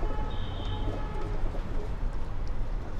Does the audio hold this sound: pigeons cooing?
yes